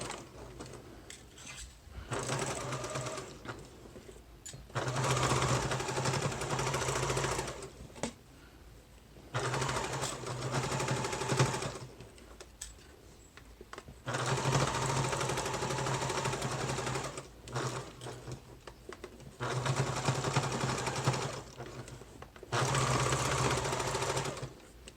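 A sewing machine stitches a half-inch seam on a gathered, pleated pillow sham, running in several loud bursts of rapid mechanical whirring, separated by short pauses, close up and with no talk.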